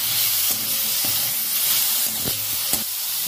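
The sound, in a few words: pineapple pickle with turmeric being stirred and cooked in pan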